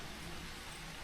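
Rain falls in a forest as a steady, faint, even hiss with no distinct drops or pauses.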